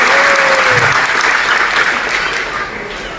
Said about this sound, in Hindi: एक बार तालियां साहब के लिए।